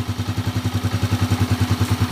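A Honda TMX125 motorcycle engine converted to 155cc idles steadily on its first start, with a rapid, even chugging pulse, close and fairly loud, with no one speaking.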